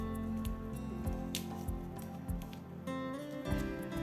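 A packet of citric acid is torn and opened with a few crinkly rustles and small snaps, close and fairly quiet, with a low hum running underneath.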